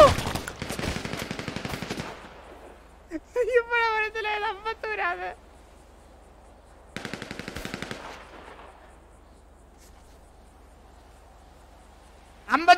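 Video game gunfire, bursts of rapid automatic shots at the start and again midway, separated by quieter stretches of game audio, with some voice-like tones in between.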